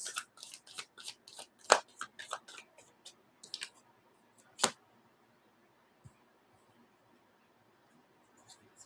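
Tarot cards are shuffled and handled up close in a quick run of crisp riffling flutters and slaps, tapering into a few isolated card snaps and long quiet stretches.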